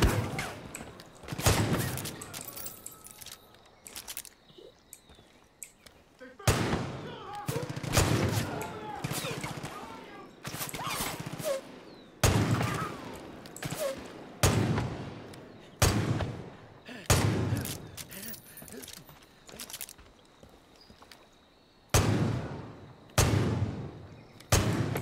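Pistol gunfire in Far Cry 5 story mode, loud separate shots spaced a second or two apart with pauses between, some in quick pairs, someone talking between them.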